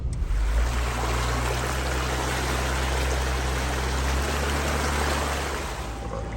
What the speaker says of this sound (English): I like to occasionally drive my Jeep through it because it washes off all the salt and everything